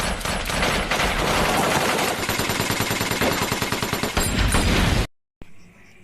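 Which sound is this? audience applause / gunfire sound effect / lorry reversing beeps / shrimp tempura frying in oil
gunfire sound effect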